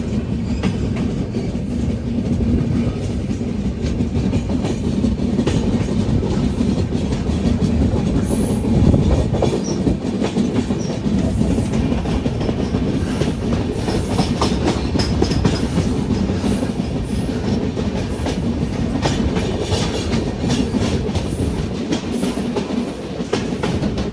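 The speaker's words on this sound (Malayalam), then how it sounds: "ട്രെയിൻ അങ്ങനെ ഉധംപൂരിലേക്ക് ഇതാ എത്തുകയാണ്." An AC express train from Delhi to Kashmir, nearing Udhampur, runs steadily with a loud, continuous rumble and repeated clickety-clack of wheels over rail joints, heard from inside the carriage and with no talking.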